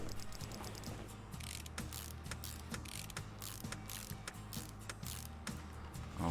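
Quick ratcheting clicks from a socket wrench tightening a release bearing and gearbox in Car Mechanic Simulator 2018, a steady mechanical rattle repeating in short bursts, close and fairly quiet with no talking.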